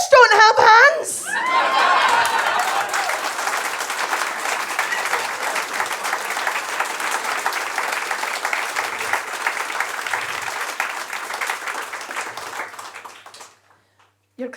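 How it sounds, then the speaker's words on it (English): A comedy special audience claps steadily for over ten seconds after a brief burst of laughter, the broad, sustained applause holding fairly loud before tapering off near the end. "Your clapping's really offensive to the fish."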